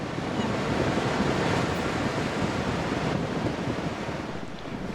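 Ocean waves and surf wash in a steady, dense roar, with wind buffeting the microphone throughout and no clear breaks between swells.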